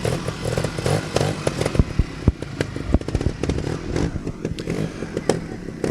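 A trials motorcycle engine revs and blips close by on a trials course, its throttle rising and falling amid clattering and knocking.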